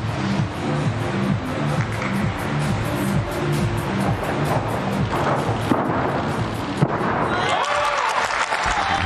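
A crowd at the 2021 Doha World Cup men's floor exercise gymnastics competition keeps up a dense, roaring wash of cheering and applause, with an underlying rhythmic pulse running through it.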